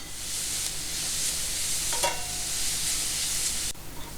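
Mint paste with turmeric sizzles in a pan, a dense, even frying hiss up close with a brief stir scrape midway and a soft knock near the end.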